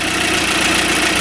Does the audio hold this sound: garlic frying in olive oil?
no